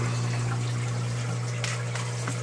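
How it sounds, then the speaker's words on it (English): Water flows steadily through an aquarium sump over baffles and pipes, a continuous close rushing trickle over a low pump hum. "Water then travels over those baffles around here through these 2 pipes into what I like to call the skimmer and reactor tank and return tank."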